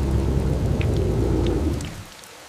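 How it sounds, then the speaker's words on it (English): Heavy rain pours down with thunder rumbling underneath, a dense steady roar that holds for about two seconds before easing off abruptly. "When the intense rainy season arrived, drenching the cracked earth and turning it into shallow pools"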